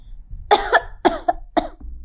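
Four sharp coughs in a row from a woman cooking in a kitchen as spices are tempered in oil, close and fairly loud, with short pauses between them and no talking.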